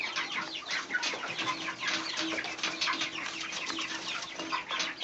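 Chickens cluck steadily while being fed cracked corn, a busy overlapping chorus of close, moderately loud clucks and calls with no talk.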